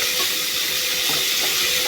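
Chicken seasoned with salt is stirred in a frying pan, making a steady sizzle with scraping and turning noises throughout.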